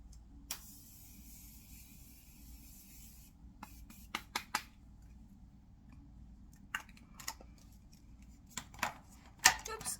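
A Maracuja setting mist is sprayed onto a face in a quiet room: a soft, hissing spray lasting a couple of seconds, followed by scattered faint clicks and rustles.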